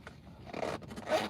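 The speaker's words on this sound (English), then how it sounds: "the zipper goes undone because I'm too thick" A clothing zipper on unbuckled pants rattles open inside a car, two short scratchy bursts, close and fairly quiet, with no talking.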